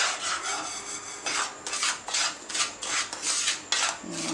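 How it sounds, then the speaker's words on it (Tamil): Somas stuffing roasts in a pan over a low flame while a spoon scrapes and stirs it in quick, repeated rasping strokes, fairly quiet and close. "கொஞ்சம் லோ ஃப்ளேமில் இருந்தால் கூட வந்து பாருங்கள் நல்லா வறுப்படும்."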